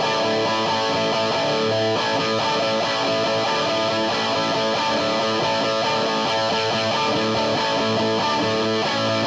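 A dense, continuous wash of distorted electric guitar chords from a 2016 Gibson Les Paul Standard with no clean boost, loud and gritty throughout, with no pauses or voices.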